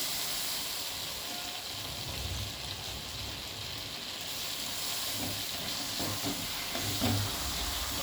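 Mixed winter vegetables tossed with chopped coriander in hot oil for a Bengali chorchori give off a steady, even hiss and sizzle that lasts throughout, with no talking over it.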